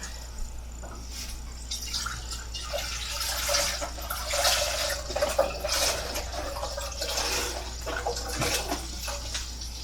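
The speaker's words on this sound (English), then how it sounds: "And then I'm going to pour this into" Plain stock poured into a small saucepan, a steady liquid splash and trickle running through the whole stretch, close and moderately loud with no talking.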